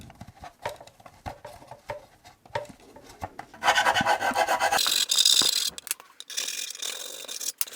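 A file rasps at a cable hole in the plastic case of an 8BitDo Retro Keyboard: irregular, close scraping strokes that grow into a louder, denser stretch of rapid rasping midway through.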